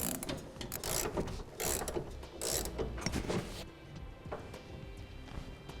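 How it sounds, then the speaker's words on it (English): Lock nuts being tightened on a gooseneck trailer hitch installed in a 2011 Chevrolet Silverado, giving a run of close, busy ratcheting clicks and metallic mechanism noise that thins out toward the end. "Go ahead and tighten them down to where we have the blue lock of the lock nut a couple threads in."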